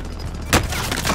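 A single sharp gunshot crack in Call of Duty on Rebirth Island, loud and close, standing out briefly against a steady background hum.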